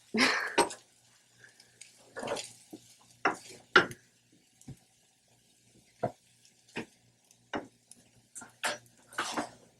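A knife and server cut into a freshly baked blackberry pie in a home kitchen, producing sparse, close scrapes, taps and clinks against the dish, with quiet gaps between them.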